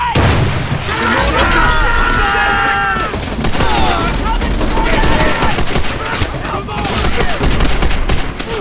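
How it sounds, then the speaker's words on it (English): A Call of Duty: World at War battle scene with dense, loud gunfire and crackling bursts throughout, a grenade blast among the shots, and shouting voices mixed into the chaotic din. "Shit! Grenade!"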